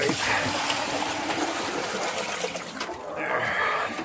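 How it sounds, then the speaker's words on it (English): Water pours out steadily in a snowy farmyard at feeding time, a continuous close splashing hiss that runs for several seconds without a break. "Oh, I gotta pour this water, guys."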